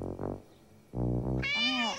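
A cartoon cat meows twice, a short mew followed by a longer, rising and falling meow, heard clearly on its own.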